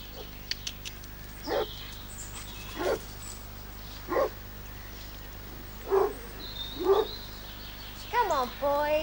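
Several dogs at a rural West Country home give a series of separate barks, about five spaced evenly over several seconds at moderate distance, with birdsong and a steady background hum.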